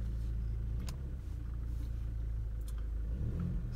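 Car engine rumbling steadily as the vehicle drives along a track in Moremi Game Reserve, Botswana, windows closed; continuous low drone with slight revving swells throughout.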